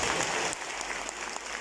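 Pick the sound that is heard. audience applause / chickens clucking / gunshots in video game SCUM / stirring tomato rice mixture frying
audience applause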